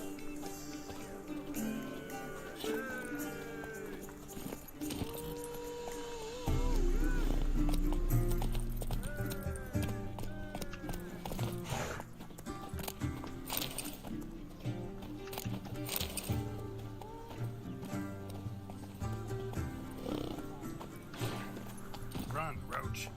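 Roach the horse gallops in The Witcher 3 game, hooves clip-clopping in a steady fast rhythm with an occasional whinny, set under game music and someone talking throughout.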